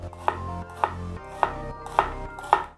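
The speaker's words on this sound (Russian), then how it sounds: "Лук я буду резать на полукольца." A knife slices an onion into half rings on a board for a squid appetizer, giving five evenly spaced, crisp close cuts with no talk.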